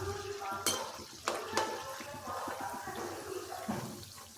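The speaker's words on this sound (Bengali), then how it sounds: "ওই তেলে আবার চপ ছেড়ে দিচ্ছি।" Banana flower chops sizzle in hot oil in a pan, a steady frying hiss with a few sharp clinks of utensils as chops are added and moved.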